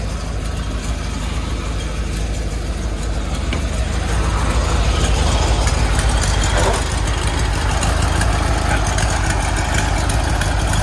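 A Volkswagen 23-window Samba bus engine idles steadily and loudly throughout, a constant low rumble with a slightly rough, unchanging tone.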